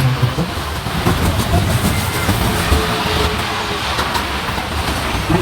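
An exhibition ride train runs continuously with a loud, close rumble and rhythmic clattering of wheels, a steady mechanical roar with no talking.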